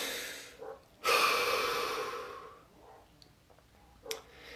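A deep breath taken during a relaxation exercise: a short sniff, then one long, loud exhale that fades out, followed by faint ticks and a softer closing breath, close up with no talk.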